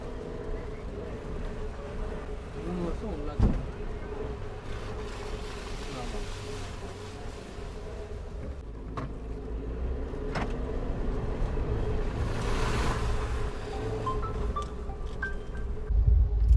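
A Suzuki Jimny wading through water off-road, a steady engine drone with rushing, splashing water and wind noise throughout, heard close with no speech over it.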